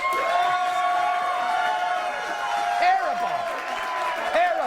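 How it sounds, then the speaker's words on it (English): A television studio audience at a late-night talk show cheers and applauds, with whoops and excited voices rising over steady, dense clapping throughout. "The most applause ever in this studio."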